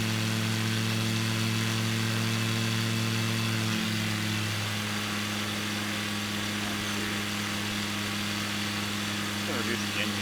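A small floatplane's engine drones steadily while it approaches a water landing in a fjord, with a constant buzzing hum and a slight drop in pitch partway through as the throttle is reduced.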